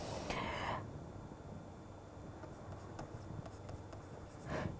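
Chalk or marker scratches across a board during a fluid mechanics lecture, with a burst of writing at the start, quiet faint strokes in the middle and another short scrawl at the end.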